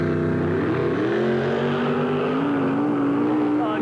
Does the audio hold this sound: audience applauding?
no